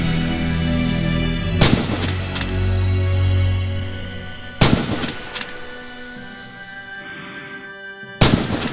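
Rifle fire at targets in Red Orchestra 2: three loud, sharp shots spaced a few seconds apart, each with a booming echo, over steady game ambience and low music.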